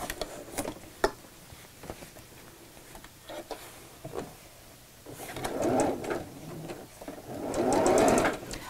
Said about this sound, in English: And I'm sewing within the seam allowance.